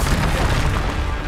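A Confringo fire spell bursting in Hogwarts Legacy makes a loud, dense booming roar that stays broad and sustained through the short moment with no break.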